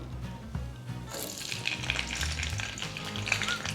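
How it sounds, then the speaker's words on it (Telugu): Green chillies fry in a little oil for mint chutney, making a dense, close crackling sizzle with stirring that grows busier and brighter after the first second. "కొద్దిగా నూనె పడుతుంది పచ్చడి చేసినప్పుడు ఇవి బాగా వేగాలి పచ్చిమిరపకాయలు"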